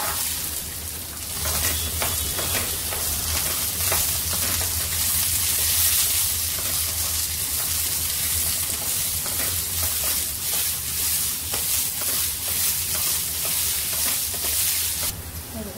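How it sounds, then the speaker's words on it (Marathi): Green peas (matar) frying in a little oil in a pan for kachori filling, a steady close sizzle with soft stirring scrapes running throughout and no talk. "थोडंसं मी तेल टाकते. मटर भाजून घेऊया आता."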